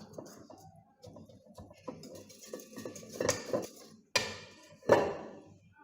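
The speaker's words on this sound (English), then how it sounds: "I'm mixing now." Pancake batter being mixed in a bowl, with intermittent scraping and clinking of utensil against the bowl at close range, a few sharper knocks toward the end.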